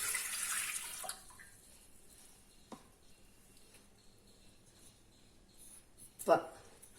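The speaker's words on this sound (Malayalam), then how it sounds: "ആദ്യം വെള്ളം ഒഴിക്കണം." A short splash of water is poured into a bread machine pan, followed by quiet clinks and handling noises and one sharp knock near the end.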